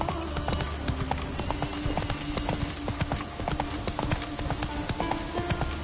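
Roach, a horse in The Witcher 3, gallops with quick, rhythmic hoofbeats that clatter steadily throughout, close and clear over a faint background bed.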